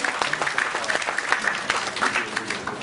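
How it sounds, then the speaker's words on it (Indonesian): Church congregation clapping during a sermon, a lively, uneven patter of hands with distinct individual claps mixed in, fairly close and loud. "Kasih tepuk tangan yang meriah buat Tuhan."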